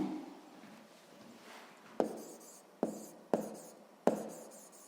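Pen or marker strokes writing out a sixth-grade maths solution, four short sharp taps or scratches after a soft rustling start, close and fairly quiet, with no talking.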